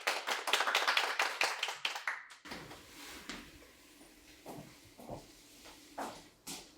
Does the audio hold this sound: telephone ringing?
no